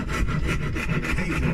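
A half-round file rasps across the wood of an already-painted guitar body in quick, rhythmic back-and-forth strokes, close and steady with no talking.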